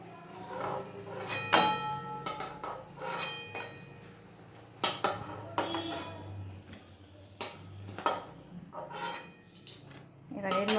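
Pan and utensils clink and scrape sharply in several separate bursts while fried eggplant is lifted out of the pan, with faint kitchen background between the knocks.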